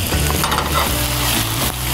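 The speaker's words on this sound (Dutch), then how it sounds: "Kip. Lekker aan het bakken." Chicken pieces sizzle and fry in a pan, a loud continuous crackle close up with a little stirring, no voices.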